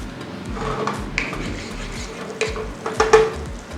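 Thinly sliced garlic sautés in a pan with a soft steady sizzle, punctuated by scraping stirs and light utensil clinks against the pan, close and moderately loud.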